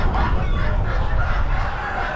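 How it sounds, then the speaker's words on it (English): Red hens at an Amish animal auction, a dense, loud chorus of clucking close by, with the steady din of a crowded barn behind it. "Red hens, pretty ones."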